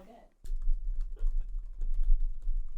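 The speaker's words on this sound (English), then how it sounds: "The speed of that typing." Rapid typing on a computer keyboard, a dense run of quick close clicks and taps continuing steadily after a brief quiet start, with faint room noise underneath.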